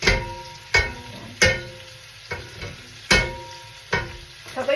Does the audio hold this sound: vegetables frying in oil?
yes